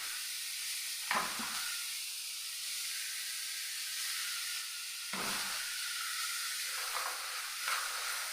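Onions sizzling with a pinch of salt in hot oil for samosa filling, a continuous bright hiss broken by two brief stirring disturbances, steady and close with no talk.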